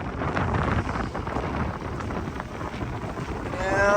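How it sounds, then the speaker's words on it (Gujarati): Strong wind buffets the microphone on a ferry deck during a truck driver's crossing from Maharashtra to Gujarat, a loud continuous low rumble with gusty swells that builds toward the end, with no voices. "પવન અત્યારે તો બહુ છે"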